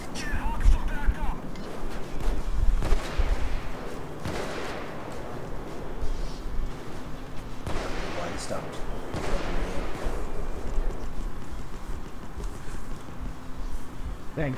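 Sniper gunfire in the video game Payday 2: several sharp shots crack out among distant firing and battle noise, with players talking over the fight.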